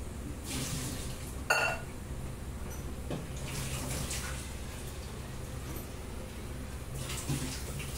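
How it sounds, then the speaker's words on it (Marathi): Water pours and splashes steadily into a pan of chickpeas set to cook, a continuous close rushing with a brief clink near the start. "आता याच्यात पाणी घालते शिजण्यासाठी"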